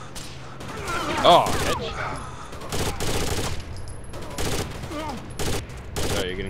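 Bursts of automatic gunfire in Rainbow Six Vegas 2 come in short volleys at close range, mixed with sharp impacts, while players talk over it.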